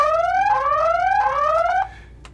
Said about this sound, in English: Looks like I accidentally set off the siren.